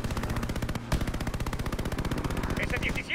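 Sustained rapid automatic gunfire in Call of Duty: Vanguard, a dense, evenly pulsing machine-gun burst with one brief break near the start, loud and continuous throughout.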